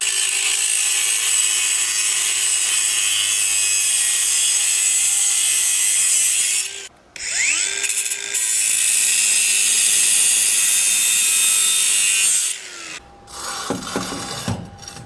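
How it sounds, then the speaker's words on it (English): A power cutting tool trims around a metal tube on a custom VW build, giving a loud, sustained high grinding whine that briefly drops out twice before resuming, close and alone. "I'm going to trim all the way around this tube."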